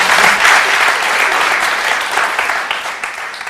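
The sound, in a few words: audience applause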